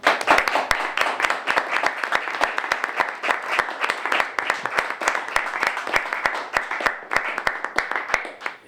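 A seated audience applauds warmly after guests are introduced at a cultural talk in a prison, dense steady clapping filling the room with a few louder individual claps standing out.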